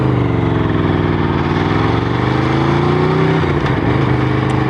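A motorcycle engine drones steadily and loud, close by as the bike is ridden, its pitch rising slowly and then dipping near the end, with no talk over it.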